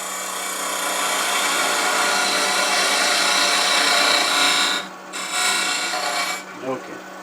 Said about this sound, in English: I'll use a beading and parting tool for that.